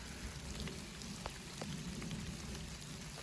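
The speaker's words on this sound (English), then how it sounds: "It's raining." Rain falls steadily on open ground in a field, a continuous soft hiss with scattered individual drop taps, faint and even throughout with no voices.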